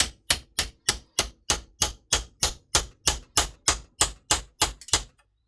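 A chisel is hammered against a John Deere 1219 cutter bar in sixteen sharp metallic strikes at a steady, quick pace. The blows are loud and close, and each rings briefly.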